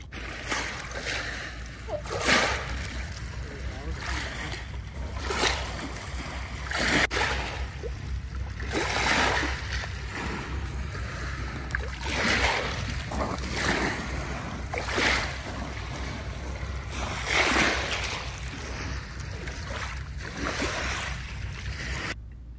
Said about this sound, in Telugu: సో ఆ వాటర్స్ సౌండ్ వినండి ఎంత బాగుందో,